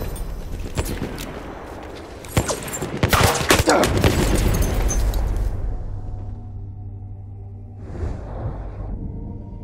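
Battlefield 1 combat near the Volga river: a dense burst of gunfire and heavy impacts over roughly four seconds, including rapid automatic machine gun fire, then fading to quieter rumble and a later swell of distant action.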